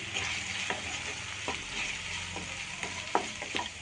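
Spices and chili powder sizzle in a pan for rajma curry while a spoon stirs them, close frying crackle broken by repeated scraping strokes and no talk.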